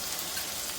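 Cumin and spices frying in oil in a pan while cooking mochar ghonto, a soft continuous sizzle with a brief louder burst at the very end.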